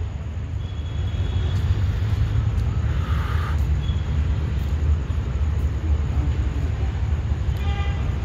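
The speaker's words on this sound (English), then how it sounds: "KURLA Coimbatore Express with diesel." Diesel locomotive hauling the LTT–Coimbatore Express past a station, a steady heavy rumble of wheels and engine building after the first second and sustained throughout, with faint horn-like tones near the middle and end.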